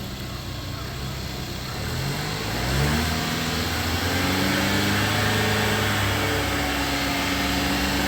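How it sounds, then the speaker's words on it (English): A car engine revs up and holds at higher revs while jump-starting another car's battery, a steady droning rise that stays close and loud. "just letting it run with a few higher revs just allows the battery to charge a bit faster off the alternator"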